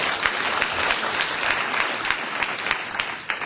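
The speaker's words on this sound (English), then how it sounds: "Let's give them a warm round of applause for the tireless work that they've given to Detroit." A large audience at a 2011 parent leadership conference in Detroit gives a steady, dense round of applause, many hands clapping together at a constant level throughout, with no talking over it.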